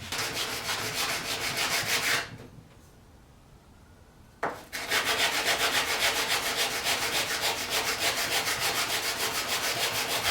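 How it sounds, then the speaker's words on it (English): Heavy-grit sandpaper scrubs a forged steel crook knife blade to strip the scale, a loud, close, rhythmic rasping. The strokes run continuously, break off for about two seconds, then pick up again. "I'll use a piece of heavy grit sandpaper"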